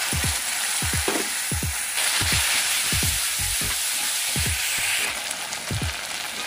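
Ginger garlic paste sizzles in hot oil for an aloo paneer curry, a steady bright frying hiss with repeated soft stirring scrapes and taps of a spoon in the pan, close up with no talking.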